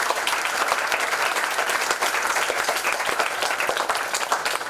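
An audience applauds at the opening of a renovated scout room at Royal College, Colombo, with dense, steady clapping of many hands that holds at an even level.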